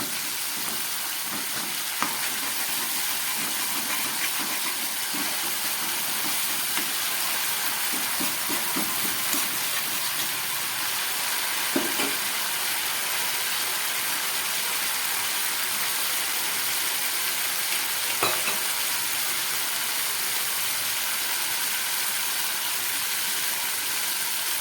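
Spice paste with a spoonful of sour yogurt and a little salt sizzling steadily in a pan, with occasional scrapes and clacks of a stirring spoon over the continuous frying hiss.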